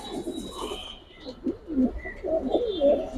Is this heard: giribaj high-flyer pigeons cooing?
yes